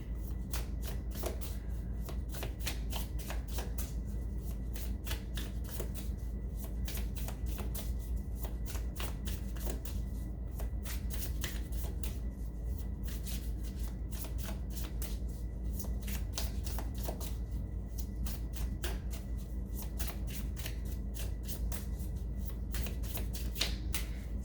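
Tarot cards being shuffled by hand, a steady run of crisp riffling flicks and soft slaps repeating close up throughout, with no talking.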